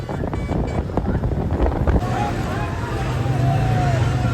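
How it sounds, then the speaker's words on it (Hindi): Cold wind gusts across the microphone near the Ganges during a crowded Bol Bam pilgrimage, blustery and roaring, with voices and the hum of passing vehicles mixed underneath. "काफ़ी ठंडी हवा चल रही है क्योंकि गंगा जी है यहाँ पे"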